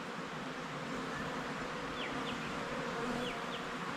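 A dense, steady buzz of many bees flying around a hive, swarming close by with no talking, a continuous hum with occasional individual insects whizzing past.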